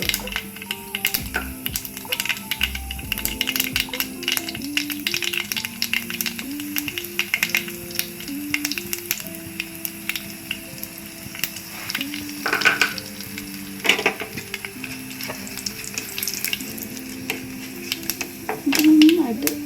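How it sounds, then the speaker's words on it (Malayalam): Mustard seeds crackle and splutter in hot oil in a home kitchen pan, a busy continuous sizzle with sharp pops running throughout, while someone talks over it. "നന്നായിട്ട് കടുക് പൊട്ടിയിട്ടുണ്ട്."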